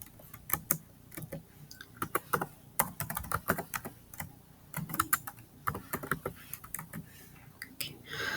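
Fingers type on a computer keyboard in quick irregular bursts of close, light key clicks, with short pauses between strokes.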